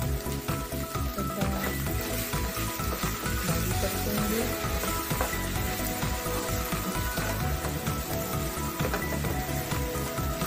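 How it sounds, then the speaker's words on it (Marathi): Chopped bhindi (okra) tossed into hot oil, giving a dense, steady sizzle and crackle that fills the whole stretch, loud and close with no talking over it. "आता आपण तेल गरम झालं, एकदा भाजी परतून बघूया."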